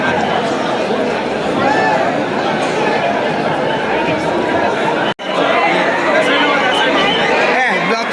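Dense crowd of worshippers at the Ekvira temple during Dussehra, a steady close babble of many overlapping voices with one brief dropout.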